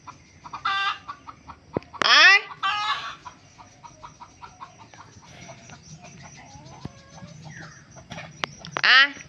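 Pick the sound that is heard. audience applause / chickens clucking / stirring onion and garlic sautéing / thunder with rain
chickens clucking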